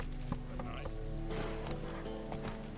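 Horse hooves clip-clopping at a gallop in The Witcher 3, a steady rhythmic beat under game music and ambience, with a voice speaking briefly over it.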